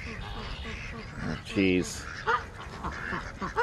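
Several ducks quack in short bursts, a loud close squawk near the middle and quieter calls after it, while a voice speaks briefly over them outdoors.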